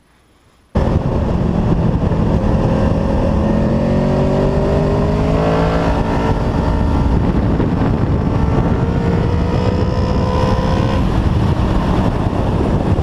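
A 2015 Honda VFR800 Interceptor, geared down one tooth on the front sprocket, starts loud after a short quiet moment, its engine note rising and shifting through the gears under steady wind noise.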